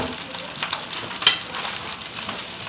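Meat and mixed ingredients dumped into a pan of frying rice, a steady bright sizzle with small scraping and stirring clicks throughout, close and fairly loud.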